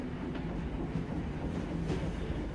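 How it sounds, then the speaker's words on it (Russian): A WWII-era military transport train rolls along the railway at steady speed, a continuous low rumble with faint clickety-clack of the wheels, heard from some distance with no voices. "Через Берлин транспортный состав направляется в восточном направлении."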